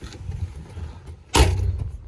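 Vintage car engine hot-starting after sitting for a couple of hours: a low rumble, then an abrupt loud catch as the engine fires and settles into a steady idle, close by, with no throttle.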